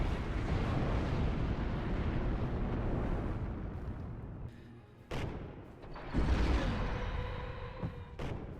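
Heavy cannon fire and explosions from a Kratos tank in a Warhammer 30K video game: continuous rumbling blasts, with sharp bursts near the five- and eight-second marks standing out against a dense, loud battle din.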